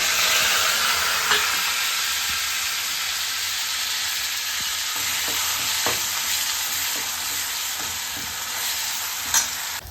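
Spice paste with bay leaves and cumin fries in oil in a pan while cooking a spicy paneer dish, giving a steady close sizzle and hiss with occasional stirring clicks throughout.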